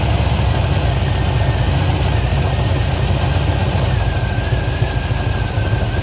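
A 1977 Chevy Monte Carlo engine idles steadily after an idle circuit adjustment, with a continuous, loud, low rumble that holds an even rhythm close up and has no talk over it.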